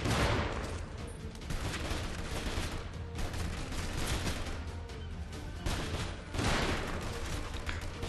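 Bursts of rapid gunfire in the mobile shooter Frontline Commando 2, dense overlapping shots that pause briefly and resume, loud and continuous throughout.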